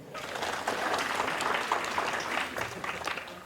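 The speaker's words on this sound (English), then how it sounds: "Clap for yourself." A room full of girls at a climate action inspiration talk claps for themselves, a sustained, even burst of applause at moderate loudness with no talk over it.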